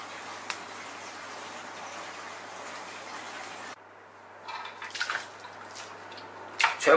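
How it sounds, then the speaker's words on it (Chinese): Long beans being washed in clean water: a steady wash of running water gives way to softer splashing and sloshing, ending with a brief louder splash close by. "全部挑好之后放到清水里面给它清洗干净"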